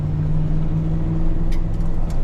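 A Ford SVT Raptor truck with a 6.2L V8 drifting on a cliffside road gives a steady, loud low engine drone with a sustained tonal hum and a few brief higher scuffs near the end, no voices.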